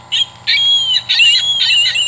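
Recorded ring-billed gull call plays from an Audubon bird plush toy, a series of about four loud, close, tinny squawks in quick succession over a faint hum.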